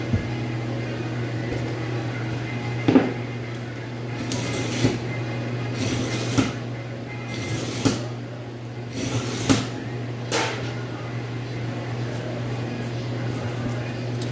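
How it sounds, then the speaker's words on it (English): A knife being sharpened while butchering beef blade steaks, with scraping strokes repeating about every second and a half over a constant low mechanical hum. "Just going to take a minute to sharpen my knife."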